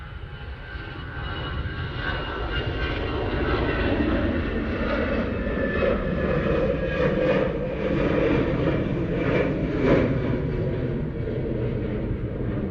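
A Ryanair airliner arrives at Manchester Airport, its steady broad engine roar holding loud and continuous throughout, with a faint rumbling undertone and no talk.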